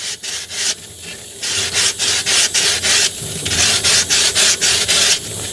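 A sanding block rubs lightly around the top edge of a cake dummy, giving rhythmic, close, scratchy back-and-forth strokes in quick bursts with short pauses between them and no talking.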